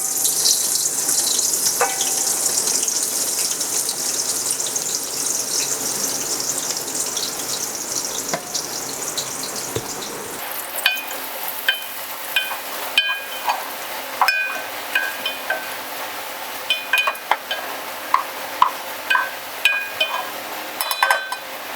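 Four large sliced onions hit hot oil for chicken biryani, a loud steady sizzle that settles into quieter frying with intermittent clinks and scrapes of stirring in the pot.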